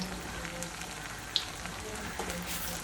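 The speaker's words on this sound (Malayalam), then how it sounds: "അപ്പോൾ ഓരോ ബോൾസ് ഞാൻ ഇതേപോലെ എണ്ണയിലേക്ക് ഇട്ടിട്ട് ഒന്ന് ഫ്രൈ ആക്കി എടുക്കുന്നുണ്ട്" Batter balls frying in hot oil give a soft, steady crackle, faint and close, with one brief louder pop.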